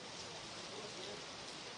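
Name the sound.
heavy rain falling in Himachal Pradesh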